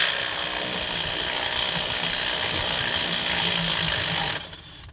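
A 3/8-drive power tool works the crank bolt on a Mercedes AMG engine, giving a loud, sustained whirring rattle for about four seconds before it cuts off abruptly into quiet.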